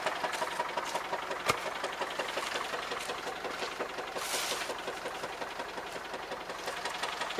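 John Deere X724 lawn tractor engine running after a cold start, a steady rapid knocking idle with a continuous mechanical rattle throughout, fairly close.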